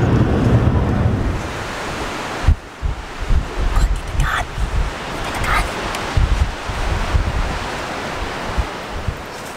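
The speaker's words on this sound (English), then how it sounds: "It's very windy." Strong gusty wind in open tussock country buffeting the microphone, loud roaring bursts rising and falling, with no clear speech.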